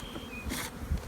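Honey bees buzzing around an opened hive during a colony check, a close, steady drone with a brief louder swell as a bee passes nearby.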